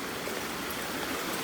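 A forest stream near a waterfall in Karura Forest rushes in a dense, constant wash of water noise, loud and close, with no voices.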